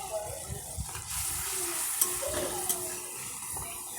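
Bottle gourd with prawns and chillies being sautéed in a pan, a soft continuous sizzle with scraping stirs and small splashes, fairly close, and a voice talking over it.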